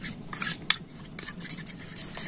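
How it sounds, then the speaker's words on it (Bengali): A spoon stirs and scrapes against a bowl as flour is mixed into beetroot juice, with soft repeated swishing strokes and a sharper clink near the middle, close and alone. "বিটের রসের সাথে ময়দাটা খুব ভালো করে এইভাবে গুলে নেব।"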